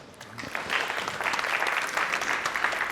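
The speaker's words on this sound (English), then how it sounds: "Give Chris a warm round of applause, please." Warm audience applause at a conference panel on the business of APIs, clapping swelling quickly after a soft start and holding steady from a moderately sized crowd.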